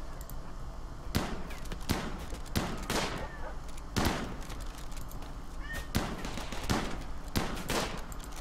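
Scattered gunshots from the RimWorld video game crack out one after another at uneven intervals, as sharp but fairly quiet snaps over a low background, with a little talking mixed in.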